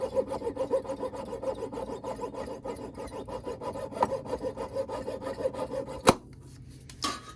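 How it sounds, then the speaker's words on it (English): A hand saw cuts through silver flatware stock held against a miter vise in a silversmithing class, with close, even rasping strokes in a steady rhythm. The sawing ends in a sharp knock and is followed by a quieter pause and one more scrape. "you're just going to saw right up against the miter vise"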